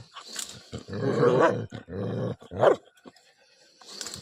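A few loud, rough dog barks and growls nearby, separated by short pauses.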